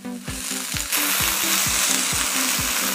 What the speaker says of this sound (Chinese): 来点泡好的花椒干辣椒。